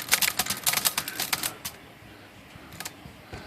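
Quick bursts of typing on a repaired Hermes 3000 manual typewriter, crisp key strikes in a fast run that pauses, then a few more clacks near the end, close and fairly loud with no talk.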